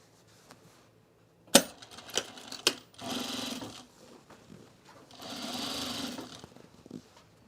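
A sewing machine stitching the center back seam of corduroy trousers, sharp clicks and knocks as fabric is positioned, then two separate bursts of fast, close mechanical whirring with brief pauses between.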